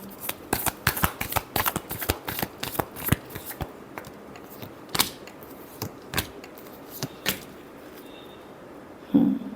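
A deck of tarot cards shuffled by hand in a series of quick, crisp riffling bursts that are close and fairly loud, slowing toward the end with sparser single flicks and a short rustle at the finish.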